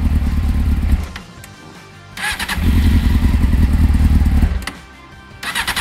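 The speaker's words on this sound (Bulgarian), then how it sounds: "Айде да видим как ще запали" A Honda Hornet motorcycle, just back from the mechanic, cranks and fires up, then runs with a loud, steady low idle broken by two brief pauses, with the engine close by.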